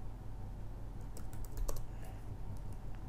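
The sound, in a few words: typing on a computer keyboard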